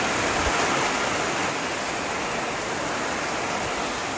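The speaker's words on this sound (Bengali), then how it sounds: "পুরো ঝুম বৃষ্টি হচ্ছে," Heavy rain pours at a beach campsite in Cox's Bazar, a steady, loud, dense hiss of rainfall that stays even the whole time, with no talking.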